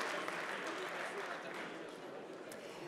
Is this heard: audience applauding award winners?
yes